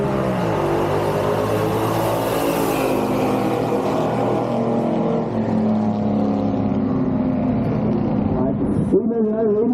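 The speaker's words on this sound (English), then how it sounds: "Tim Gobang driving the Dodge Dart Slinger on the left side of the racetrack" Race cars on a racetrack, including a 1970 Impala wagon and a Dodge Dart, drone with loud, sustained engine tones that shift in pitch as they run, heard under a commentator's voice.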